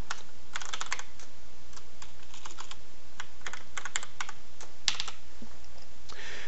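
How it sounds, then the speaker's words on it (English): A password is typed on a computer keyboard: a close, steady run of light, quick key clicks in irregular bursts, with no talk. "And then you want to type the enable password."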